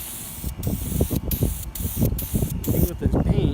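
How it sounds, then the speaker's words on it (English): VHT wrinkle spray paint hisses onto a K20 valve cover in short, repeated bursts from a can, close and loud, with a voice talking between the sprays. "Go ahead and start spraying."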